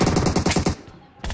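Rapid automatic gunfire from a team-match shooter video game, a fast loud burst of repeated shots lasting most of a second, then a short drop before another blast starts.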